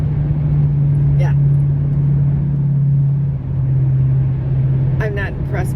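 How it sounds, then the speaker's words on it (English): Truck passing by on a road in Las Vegas, a steady loud low engine rumble that swells and fades, with voices briefly talking near the end. "I'm not impressed by that truck."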